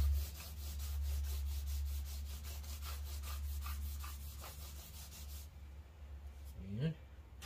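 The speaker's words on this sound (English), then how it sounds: "We're going to wipe it down one more time and let it dry." A cloth rubs steadily across a wooden board in quick repeated strokes under a constant low hum. The strokes stop near the end, leaving brief faint handling sounds.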